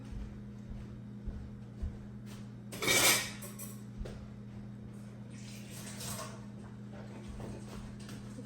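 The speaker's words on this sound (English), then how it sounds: "I'm just gonna kind of mix it together with the cabbage" A spoon stirs shredded carrots into cabbage for homemade coleslaw in a bowl, a single brief clatter of scraping utensil against the dish rising near the midpoint over a steady low hum, with softer scrapes later.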